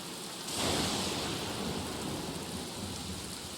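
Steady rain pours in The Black Mirror video game, a dense even hiss that swells slightly early on and then holds constant, with no voices.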